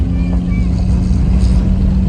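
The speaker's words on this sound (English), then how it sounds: "our 84 Toyota Tercel with the really loud exhaust" A 1984 Toyota Tercel with a really loud exhaust drones steadily as it drives, a deep, constant low rumble close to the microphone with no break.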